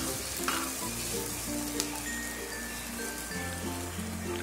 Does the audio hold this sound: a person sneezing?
no